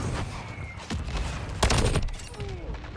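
Gunfire in a first-person shooter video game, a loud close burst of shots and crackling bursts over dense, busy game noise, with distant shots around it and no talking.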